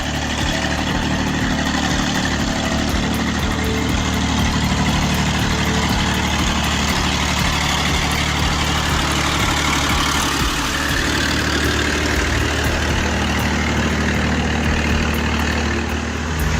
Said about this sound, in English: I can't help but wonder if this is a truck or a boat as it powers through that muddy bog.